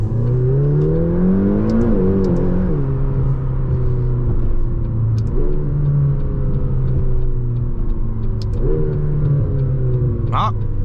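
McLaren GT with a 620 hp engine accelerating hard from 100 to 200 km/h, a loud continuous engine roar climbing in pitch and dropping at quick gear shifts, heard close from inside the car.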